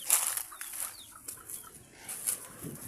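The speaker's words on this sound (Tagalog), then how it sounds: "Ito yung babaeng manok." Hen clucking outdoors, a few soft, scattered clucks at moderate distance amid quiet background ambience, with faint bird chirps mixed in.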